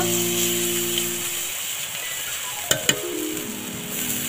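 Spices frying for a Bengali bhola fish curry hiss steadily in oil; a couple of sharp clatters mark water going in, and the sizzle carries on.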